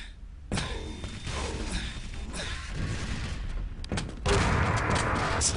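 Rocket explosions and weapon fire in a fast-paced Quake Live team deathmatch, a dense barrage of booms and thuds with a louder burst near the end, with no talk.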